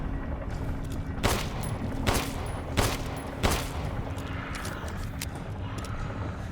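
Gunfire from weapons in the video game Resident Evil Village: four sharp shots spaced about a second apart over a steady low ambient hum, with no voices.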